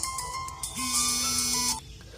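A phone ringtone goes off during a Hindi grammar lesson, a loud electronic melody of sustained synthetic tones lasting under two seconds, heard alone with no talk over it.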